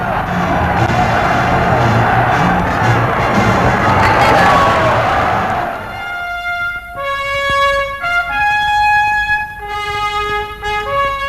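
A large crowd cheers and acclaims Charles de Gaulle on Victory Day 1945, a dense roaring swell of voices for about six seconds, then giving way to bright sustained musical tones.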